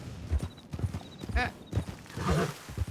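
Horse hooves clop in a steady rhythm in a western video game on a ride to Tumbleweed and back to Blackwater, with a short whinny partway through, all moderately loud and close.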